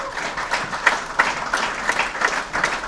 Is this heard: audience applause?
yes